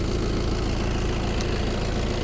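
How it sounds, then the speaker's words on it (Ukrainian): A steady, low engine rumble idles evenly throughout, with constant vibration and no changes in pace or other sounds. "Мотор працює рівно стабільно справно."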